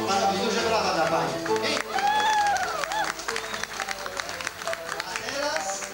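A crowd claps and cheers while a voice talks over the applause.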